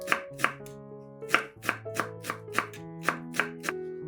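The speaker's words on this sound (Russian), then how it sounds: "Мелко нарезаем пучок укропа" A knife chops a bunch of dill on a cutting board in a dozen crisp, close taps at a quick, slightly uneven rhythm, set over gentle background music.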